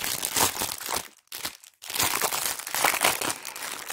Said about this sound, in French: je vais essayer d'enlever le scotch aussi